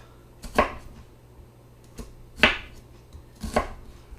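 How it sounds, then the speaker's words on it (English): A knife slicing straight down through an onion half on a cutting board, giving four distinct close chops at uneven intervals against a quiet background. "cut it this way, same thickness, going straight down through the onion half"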